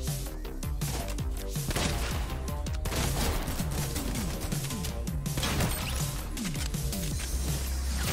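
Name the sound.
gunfire in Fortnite video game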